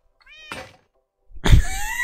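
A cat meows twice in the video game Minecraft. A short, faint mew comes first, then a louder, longer meow after a pause, with no talking.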